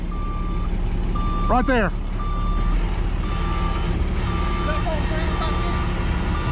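A dump truck maneuvers in deep mud with steady repeating reversing beeps over a rumbling diesel engine. Someone shouts briefly partway through, and a short squealing sound cuts in once.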